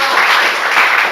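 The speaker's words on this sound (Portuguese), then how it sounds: "Dê mais um aplauso ao Senhor Jesus." A church congregation applauds during a Sunday service, a dense, loud burst of clapping that fills the room without pause for about a second.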